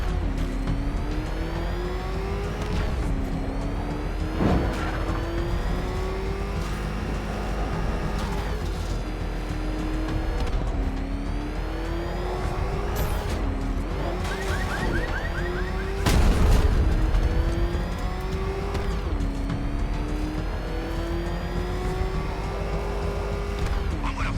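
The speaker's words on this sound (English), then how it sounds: "So I'll leave you some Batmobile footage." In a Batman video game, the Batmobile's engine roars loudly and continuously, rising and falling with repeated revving and gear changes, with a sharp burst of impact or skidding partway through.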